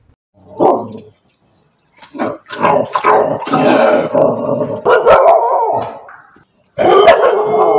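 Dogs fighting and barking, loud close bursts of snarling barks and yelps in irregular clusters with brief silent gaps, intense and harsh throughout.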